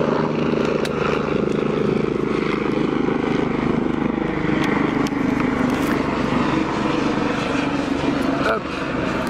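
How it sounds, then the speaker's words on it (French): A helicopter flying overhead near a hospital, a steady loud rotor and engine drone filling the whole stretch without letup. "Quand il y a des hélicoptères, eh ben ça fait du bruit."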